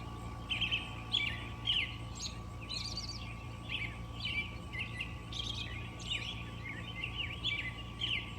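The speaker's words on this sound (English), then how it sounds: "just listen at the beautiful sound of these birds." Wild birds sing at 5 a.m. in the dim dawn among trees, bright chirps and short trills repeating in scattered phrases over a low, steady hum. The calls are fairly faint and no one speaks.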